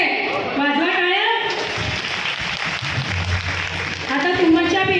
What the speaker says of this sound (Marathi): वाजवा टाळ्या.